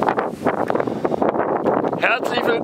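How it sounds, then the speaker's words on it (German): Wind blasts an unshielded microphone on the Arctic Circle Trail in Greenland, a loud, continuous buffeting roar with gusty surges, mixed with someone talking. "Hier geht übrigens immer Wind."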